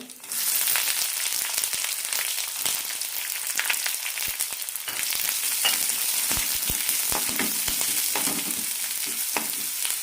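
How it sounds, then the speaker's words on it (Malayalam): Onions fry in hot oil with mustard seeds, chili and curry leaves for a Kerala-style jackfruit curry, giving a steady close sizzle broken by crackles and spoon stirring, with no one talking. "സവാള നന്നായി ചോക്കുന്നവരെ വഴറ്റിയെടുക്കാം"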